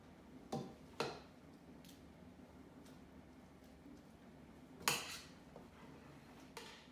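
Spinach, feta and egg filling being tipped from a bowl into a baked pie crust, with three sharp utensil clanks against the dish over a quiet background.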